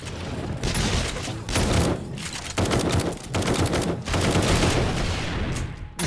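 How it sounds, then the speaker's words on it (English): Rapid rocket fire and explosions during Horde Night in the video game 7 Days to Die, a dense barrage of overlapping blasts and bursts with brief gaps, loud and continuous. "Burn a few rockets just for fun."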